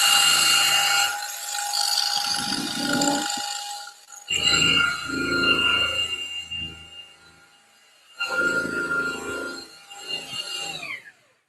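A rotary buffer works the clear coat on a car body panel, its steady high whine broken by three long passes with short gaps between them, loud and close, with no talking.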